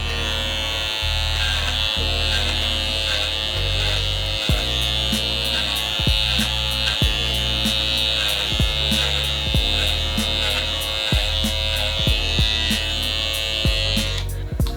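A Slimline Pro hair trimmer fitted with a Ron Legend blade buzzes steadily and close up for the whole stretch, a constant high electric whine broken by regular soft clicks and taps as it works.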